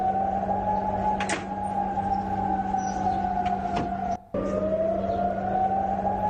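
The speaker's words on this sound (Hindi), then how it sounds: "वहां सायरन की आवाज सुनाई दे रही है" A loud, sustained air raid siren wails steadily over a city with a slowly shifting pitch, broken briefly by a short dropout near the end.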